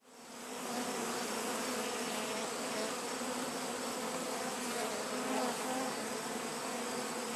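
Honeybees at a backyard hive in late summer: a dense, continuous buzzing swarm hum that swells in within the first second and holds steady and close throughout.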